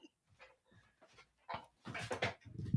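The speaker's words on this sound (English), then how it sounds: "My doggy's barking." A dog indoors gives a few short, faint barks and whimpers in separate bursts, growing a little louder toward the end.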